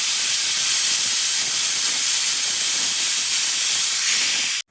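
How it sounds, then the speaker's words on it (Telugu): A pressure cooker cooking dal for Andhra-style gongura pappu vents steam in a loud, steady hiss that runs close and unbroken for several seconds before cutting off abruptly. "ఇక 4 విజిల్స్ వచ్చేసాయి."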